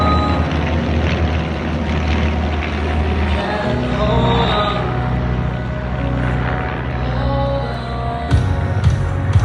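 Van's RV series kit aircraft flying in formation at an airshow, a continuous broad propeller and engine drone holding steady throughout, with a few brief louder swells near the end.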